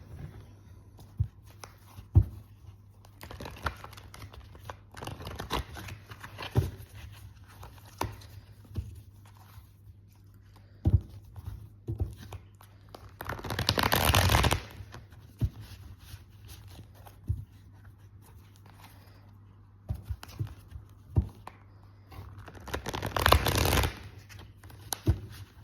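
Tarot cards being shuffled in two bursts of dense riffling, with quieter scattered card taps and handling between, close and fairly soft with no talking.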